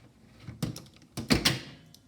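Cabinet doors mounted on a wall, pulled open by the force of four strong magnets, give two quick knocking thunks about a second apart, close and clear with no talk.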